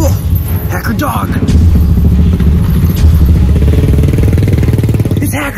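A loud motorbike engine rumbles and revs close by throughout, with clattering noise mixed in.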